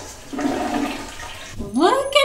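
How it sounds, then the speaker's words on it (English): A household toilet being cleaned is flushed: a steady rush of swirling water runs for about a second and a half, then a louder gurgle as the bowl drains, close up, with a voice briefly over the end. "Good flush."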